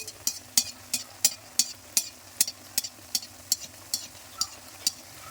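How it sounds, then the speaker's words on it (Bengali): Malpua frying in hot oil, a steady soft sizzle broken by a regular series of sharp, bright ticks and pops, about three per second, close and fairly quiet with no talking. "এইভাবে সব কটা ভেজে নিই"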